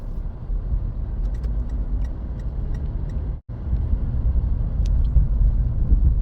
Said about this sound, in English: Terrible roads. Gotta go real slow over these bumps. That trailer sounds angry.